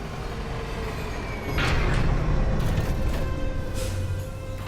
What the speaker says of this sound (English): you head over to the console and call in the tram for the very first time